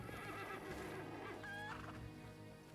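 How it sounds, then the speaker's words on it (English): Chickens call outdoors, faint and distant: a brief run of warbling fowl cries over a low background, with no talking. "Bunch of chickens."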